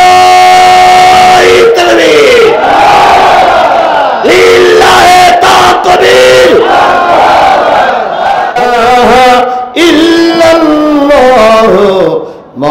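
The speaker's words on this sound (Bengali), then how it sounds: "জোরে একটা তাকবীর দিবেন" A large crowd at an outdoor religious gathering roars the takbir together in loud, sustained collective chants, several surging calls in succession that swell and fade, close and very loud.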